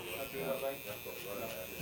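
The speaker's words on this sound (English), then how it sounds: "I follow the lip line with the edge of the clipper." Electric hair clippers trim a mustache along the lip line, buzzing steadily up close, their hum wavering slightly as they move, with a voice faintly present underneath.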